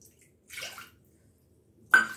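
Water is poured into a pan for gooseberry garlic tomato rasam in two brief splashing bursts separated by a pause, the second louder and sharper, with near silence otherwise.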